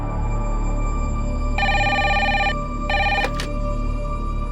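A telephone rings for an incoming call in two loud, close electronic bursts, a long ring and then a shorter one, over a low hum with no voices.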